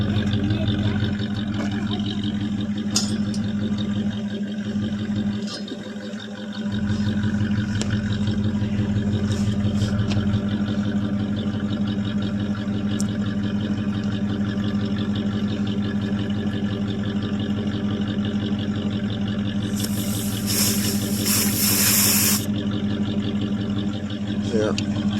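A 1984 Chevrolet Suburban's engine runs steadily at a low rumble as the truck drives around a yard, cold-started after three years sitting, with a continuous drone and people talking over it.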